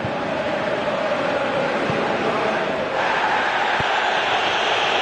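A dense wash of stadium crowd noise from a PES football match between Real Madrid and its rival, loud and continuous, building slightly midway, with a commentator's voice running underneath.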